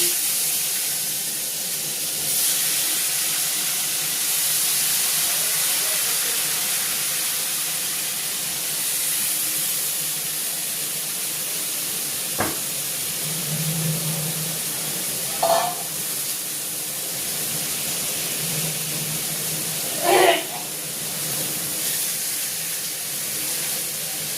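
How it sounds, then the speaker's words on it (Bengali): Young jackfruit and a little potato sizzle in oil in a kadai, a steady close hiss with a few brief clinks and stirring knocks scattered through it. "এবার আমি কড়াইয়ের মধ্যে দিয়ে দেবো ইঁচড় আর একটুখানি আলু।"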